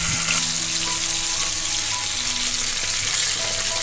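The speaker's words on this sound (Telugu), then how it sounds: "మంటను లో టు మీడియం ఫ్లేమ్ పెట్టుకుని చేపలను దోరగా వేయించుకోవాలి." Tilapia fish frying in oil over a low to medium flame, a loud, dense, continuous hiss and crackle of sizzling close by, with no voices.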